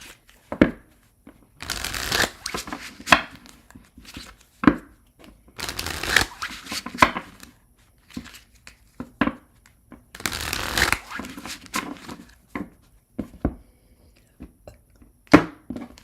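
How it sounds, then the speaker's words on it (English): Tarot cards are shuffled by hand in a series of bursts: quick riffles and ruffles alternate with sharp taps and clicks of the deck, close and clear with short quiet gaps between. "I'm going to shuffle and we'll move on to Taurus"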